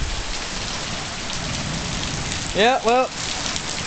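Heavy rain pours steadily on a mountainside during a thunderstorm, a loud, continuous hiss throughout; two short rising bird-like calls cut through near the end, and a voice speaks briefly.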